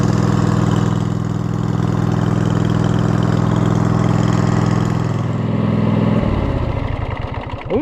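A zero-turn lawn mower engine with its muffler fallen off runs loud and raw with a steady rumbling idle, then its tone drops and sputters as it begins winding down near the end.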